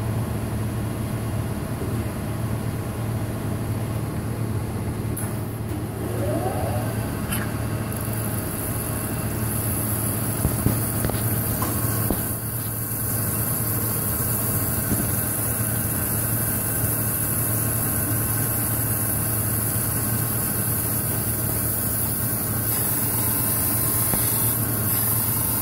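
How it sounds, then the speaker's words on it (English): Cam grinding machine with a narrow wheel regrinding a Honda F-series SOHC VTEC camshaft, a steady loud whining hum with a high-pitched grinding hiss and motor drone, continuous and close, no talking. "Here it's grinding more off the bottom than the top."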